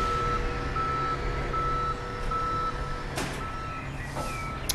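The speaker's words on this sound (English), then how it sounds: "Now the tow truck can finally go to that car." Reversing beeps from a tow truck in the Police Simulator: Patrol Officers game, a steady repeating electronic beep over a low truck engine rumble, close and clear, with a couple of brief clunks near the end and no talking.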